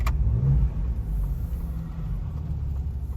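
Ford Ranger Raptor pickup engine revving hard with wheels spinning: a sharp initial burst, then a sustained deep, loud rumbling roar that holds steady to the end.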